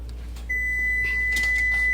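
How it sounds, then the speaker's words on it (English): A kitchen oven, set to 350 degrees, gives a single steady high electronic beep that starts partway through and holds until the end over a quiet room hum. "That's my oven. It's already registered at 350."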